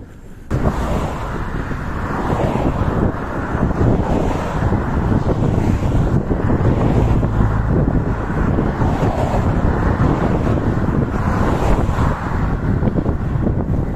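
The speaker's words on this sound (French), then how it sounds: "Il y a un peu de vent facial, mais sans plus." Steady loud headwind buffeting the microphone while mountain biking near the coast between Saintes-Maries-de-la-Mer and Frontignan, a continuous roaring rumble with no letup throughout, with no voices.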